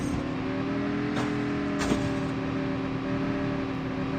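A car engine from Call of Duty Mobile gameplay hums steadily and loudly throughout, holding a constant drone with a couple of brief clicks and no talking.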